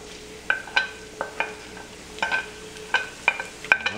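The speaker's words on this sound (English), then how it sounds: "I love the sizzle of garlic." Garlic sizzling in olive oil in a pan over near-high heat, a soft steady hiss broken by repeated sharp clinks and scrapes of stirring.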